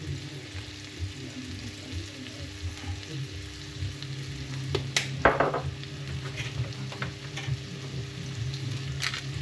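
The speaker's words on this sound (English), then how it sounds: "you fry off your onions and your garlic" Onions and garlic frying in a pan, a steady close sizzle with soft clinks of utensil and stirring, no talking.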